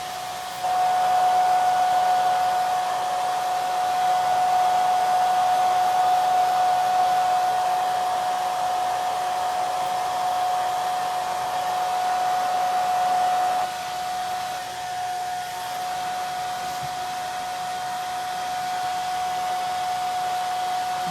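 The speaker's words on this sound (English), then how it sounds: "this blow dryer belongs to this place where we're staying, so it's probably going to be loud" A hair dryer runs steadily with a loud whirring hum and a high whine, its pitch dipping briefly partway through, then continuing.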